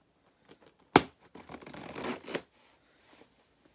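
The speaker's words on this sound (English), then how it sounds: "I've got a pen here to help me open the sellotape" A sharp tearing rip followed by a longer scratchy, crinkling scrape of sellotape on a box being cut with a pen and pulled, then quiet rustles.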